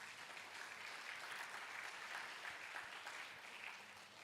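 Strong round of applause from a church congregation filling the room, steady dense clapping at moderate loudness with no voices over it.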